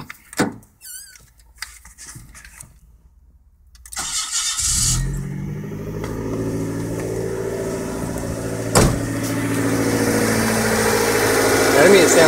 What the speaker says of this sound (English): I'm going to start the car. I'm going to let you hear it.